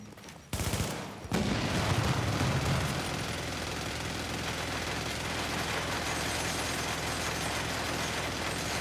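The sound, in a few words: gunfire from an enemy in a video game (The Division)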